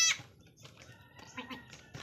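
A farm goat bleats a few times in short wavering calls, with some faint background bird and animal noise around them, fairly close but not loud.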